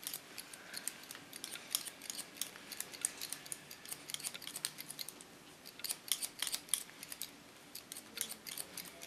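Scissors snip repeatedly through hair during a pixie cut, a quiet, irregular run of crisp close-up cuts with short pauses between clusters.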